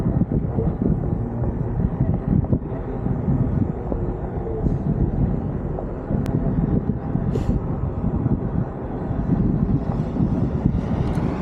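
Wind buffets the microphone during a OneWheel ride through Edina parks in the Minneapolis area on a windy, sunny day, a loud, steady low roar that runs the whole stretch with no one speaking.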